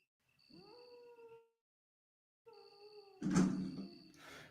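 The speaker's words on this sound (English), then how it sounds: "The sound that the dogs make when they perish is kind of sad." Zombie dogs in the Resident Evil video game give drawn-out mournful howls as they die, two separate wavering cries with a pause between, then a harsh burst of game noise, clear and in front.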